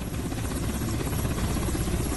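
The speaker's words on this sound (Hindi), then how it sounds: "वायुसेना के Mi-17 हेलीकॉप्टर से एक कामयाब ऑपरेशन हुआ" An Indian Air Force Mi-17 helicopter flying during a flood rescue over a swollen river in Jammu gives a loud, steady rotor and engine roar that fills the whole clip, close and unbroken.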